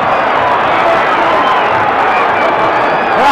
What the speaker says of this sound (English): Crowd alive for a change.